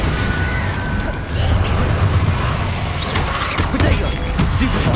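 Hogwarts Legacy duel with the Confringo blasting spell: sustained loud battle noise with bursts, crashes and sharp pops scattered throughout, while a voice talks over the din.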